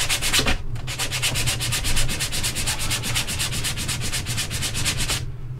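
Folded sandpaper is rubbed by hand over wood in a fast, steady back-and-forth rhythm of about eight strokes a second, loud and close. It starts after a brief gap and stops abruptly near the end.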